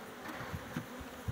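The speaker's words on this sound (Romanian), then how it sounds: "Nu e agresivă albina, e blândă" Faint, steady buzzing of honeybees flying around beehives at an apiary during spring hive work, a soft continuous hum with no talking.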